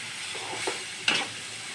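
Diced potatoes added to hot spiced oil in a curry pan sizzle steadily while being stirred, with a couple of louder scrapes from the spoon, close up and with no speech.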